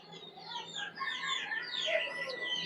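A pair of Kagzi pigeons in a rooftop garden aviary among other birds, with busy overlapping chirps and calls rising and falling continuously, close and fairly loud.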